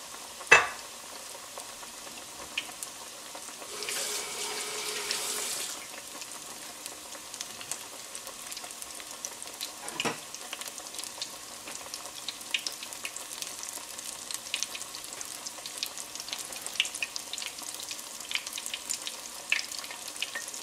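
Coconut-coated gar bites drop into hot oil and deep fry with a steady, even sizzle and crackle. A brief louder burst of bubbling comes early before the frying settles into a continuous hiss.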